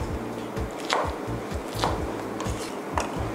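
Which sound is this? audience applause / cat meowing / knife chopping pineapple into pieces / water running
knife chopping pineapple into pieces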